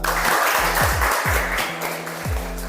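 Applause for a student group after a classroom drama presentation, a steady wash of many hands clapping over a low background hum, with a few brief voice-like sweeps showing through.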